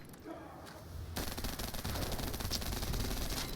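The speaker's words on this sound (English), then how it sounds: "This is why I love the Python. It's such a nice mag dumping weapon." Python gun in The First Descendant emptying its magazine in a rapid, continuous burst of automatic fire that starts abruptly about a second in and holds steady and loud to the end.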